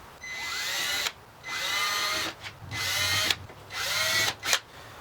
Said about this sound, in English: Just drill some pilot holes here.